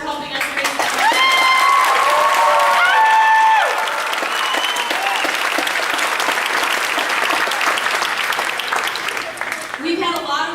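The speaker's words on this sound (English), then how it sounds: "A big round of applause for Sherry Rouse for helping us raise the money." Loud, sustained audience applause fills a school band concert hall, with talk and scattered cheers over the first few seconds before steady clapping continues to the end.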